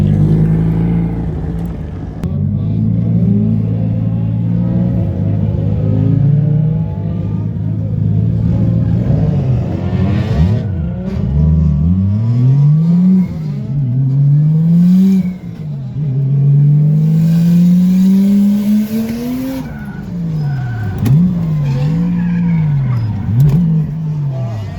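A drift car on fresh tyres at a Japanese track, engine loud and close with repeated revs rising and falling in sweeping arcs, tyre squeal and skidding mixed in over a continuous roar.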